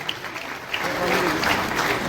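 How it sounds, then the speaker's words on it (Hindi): Audience applause at a Kargil Vijay Divas memorial event, a dense wash of clapping that swells louder after the first moment and stays steady, with some crowd noise and voices mixed in. "तालियां बगैर कहे बजानी चाहिए आपको और जोर से"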